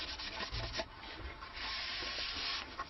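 A cloth wiping over the wooden body of a stick dulcimer to raise the grain, producing a continuous close rubbing hiss with short strokes at first, then a longer steady sweep.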